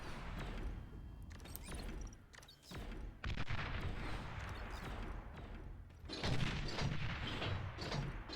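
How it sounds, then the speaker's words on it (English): Roughly three bombers make a bombing run in the real-time strategy game Beyond All Reason, producing a faint, continuous rumble of overlapping explosions and booms with occasional sharper blasts, and no voices. "so there's about 3 bombers participating in this bombing run."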